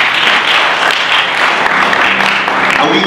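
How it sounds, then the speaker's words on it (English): A room of birthday guests at a 50th birthday gathering gives sustained, dense applause, many hands clapping together close and loud for a few seconds with slight murmurs underneath. "A round of applause for our sister."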